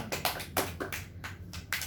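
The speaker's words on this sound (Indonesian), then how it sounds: "Tepuk tangan untuk Niken." Classroom applause for a student: faint, scattered clapping from a small group of pupils, a few uneven claps spread over about two seconds.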